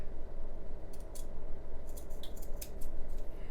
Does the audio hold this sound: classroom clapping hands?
no